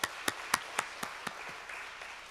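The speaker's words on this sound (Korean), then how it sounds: "주님께 영광의 박수 올려드리겠습니다." A church congregation at an autumn early-morning revival service claps in unison in a faint, distant room. About eight sharp, evenly spaced claps land roughly every quarter second, then fade into quiet room tone.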